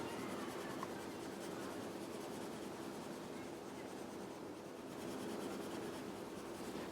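Continuous scratchy rubbing of a coloured pencil shading across paper, close and fairly quiet, with a steady back-and-forth texture and no voices.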